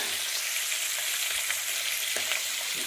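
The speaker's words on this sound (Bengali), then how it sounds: "আমি কড়াতে মাছগুলো দিয়ে দিয়েছি, মাছগুলো হতে লাগুক, এক এক করে মাছগুলো ভেজে নেবো" Fish pieces fry in a wok, giving a steady, close hiss of sizzling oil with faint crackles and no talking.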